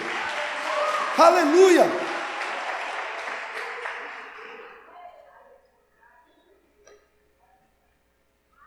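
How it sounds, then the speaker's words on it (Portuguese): A church congregation applauds loudly under a raised voice and shouting. The clapping fades steadily over about five seconds into near silence. "É aplaude que nem crente, querido."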